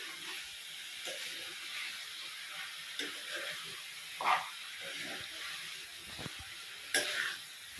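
A pan of chicken gravy masala with ginger garlic paste being stirred, giving a soft steady sizzle and hiss with occasional scraping clicks of the spoon, fairly quiet and without talking.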